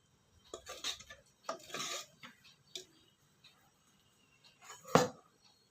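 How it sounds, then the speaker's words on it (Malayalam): Curry being stirred in a metal pot: a few scraping, clinking strokes of a spoon against the pot in short bursts, with pauses between and one sharper clank near the end. "നന്നായിട്ട് ഇളക്കി കൊടുക്കുക."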